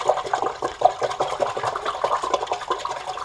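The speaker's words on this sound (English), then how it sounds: "I'm going to wiggle it in the water. I'm going to swish it around." Kale sprouts in a Freshlife sprouter swished around in water, a close, choppy sloshing and splashing with a quick irregular rhythm throughout.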